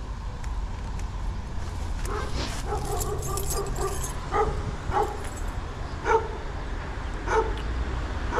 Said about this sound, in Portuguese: Fica de boa, cachorrinho.